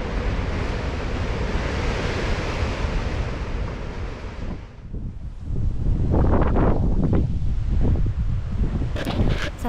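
Strong wind at a glamping site in South Bandung roaring and buffeting the microphone, a continuous dense rush that briefly dips then surges back even harder.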